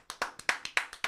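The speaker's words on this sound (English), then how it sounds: "Let's clap for this guy." A single pair of hands claps close by, seven or eight sharp, evenly spaced claps in quick succession with no other sound.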